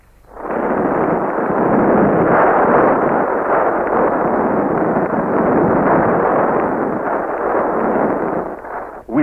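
Heavy bombs and rockets explode during a 1971 Pakistani Air Force raid on Indian territory, heard as a loud, continuous roar of blasts in narrow-band archival newsreel sound.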